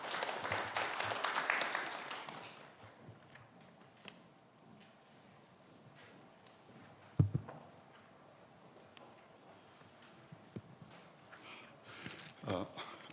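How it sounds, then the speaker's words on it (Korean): Audience applause at the 2022 Busan city brand forum swells briefly at the start, then fades after a couple of seconds into a quiet room with scattered faint knocks and shuffles. "큰 박수 부탁드리겠습니다"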